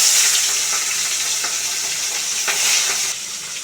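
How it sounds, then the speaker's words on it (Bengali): Pieces of katla fish fry in hot mustard oil in a wok, giving a loud, steady, close sizzle with a few brief crackling spurts and no talking. "এবার আমি মাছগুলো একটা একটা করে ভেজে নেব।"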